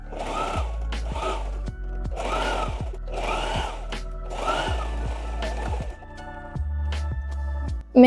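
A sewing machine stitching a bag lining with fabric placed right sides together, running in a series of short bursts of whirring stitches with brief pauses, close and alone.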